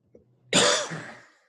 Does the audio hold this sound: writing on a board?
no